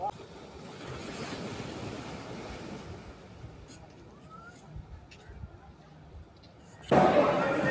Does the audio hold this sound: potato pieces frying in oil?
no